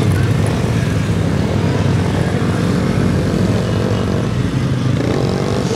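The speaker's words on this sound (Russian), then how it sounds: "Ребенку дали мотоцикл." A child's motorcycle runs steadily through a motogymkhana run at MGKC 2020, a continuous loud engine drone filling the whole stretch with no pauses and a constant hum beneath it.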